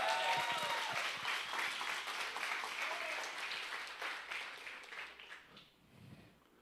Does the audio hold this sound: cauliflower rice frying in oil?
no